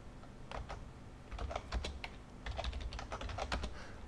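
Typing on a computer keyboard while setting a new root password on a Linux device, with irregular bursts of quiet key clicks that run steadily for several seconds with no talking.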